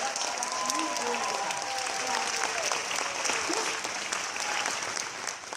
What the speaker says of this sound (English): come on, let's applaud.